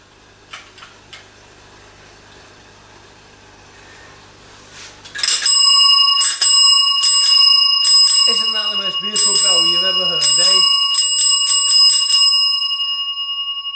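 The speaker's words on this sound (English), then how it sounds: "get them out the way by ringing your bell" Faint clicks and ticks come first, then a bicycle bell rings loudly and repeatedly in quick, bright dings that carry on to the end.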